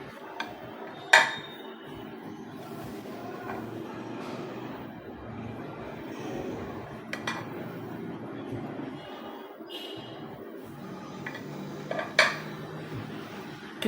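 Chicken fried rice being gently mixed in a pan: soft continuous scraping and stirring with scattered light metallic clinks of a utensil against the pan, fairly quiet and steady throughout.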